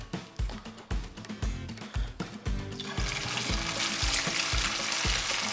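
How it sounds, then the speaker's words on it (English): Thumps and clatter give way to a steady, loud broadband sizzle as crappie fish patties drop into grease at about 350 degrees and keep frying. "So let's slide these crappie patties in the grease."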